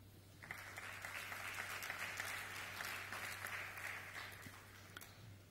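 Steady applause from a conference audience welcoming a panelist onto a Takaful insurance panel, a continuous wash of many hands clapping at moderate distance for about five seconds before fading slightly.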